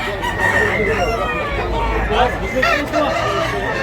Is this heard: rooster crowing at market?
yes